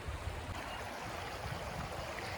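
Creek water running over lots of stones on a dairy farm, a steady close babbling rush with no voices.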